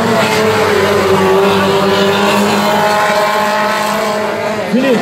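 Race cars roar loudly and continuously around a dirt oval in a light-category event, engine tones rising and falling as they pass close by, with commentary faintly underneath.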